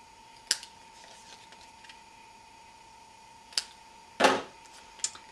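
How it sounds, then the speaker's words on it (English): Scissors trim small points off a paper gift-bag label, giving a few sparse, crisp snips spaced seconds apart over a quiet background with a faint steady tone, and no talking. "I'm going to cut about 1/4 of an inch off of these little points here on the end"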